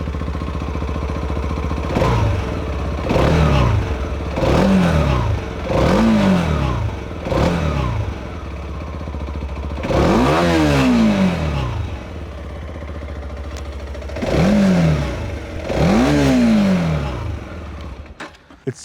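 A TVS Apache RTX motorcycle engine revs repeatedly in sharp bursts, each climbing and falling back to a low idle rumble, loud and close.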